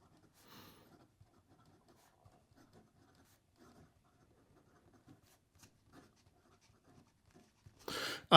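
A Montegrappa 007 Goldfinger fountain pen with a gold nib scratches faintly across paper in short, quiet strokes with small pauses, close and soft, ending in a brief louder rustle.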